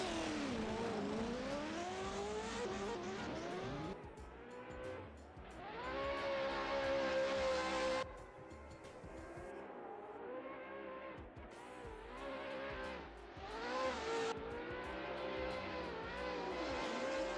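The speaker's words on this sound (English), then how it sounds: "The V8 screaming down the track." A V8 race car from a racing video game screams down the track, set at Tokachi International Speedway in Japan. The engine note is loud and continuous, rising and falling through pitch sweeps and gear shifts, with no talk over it.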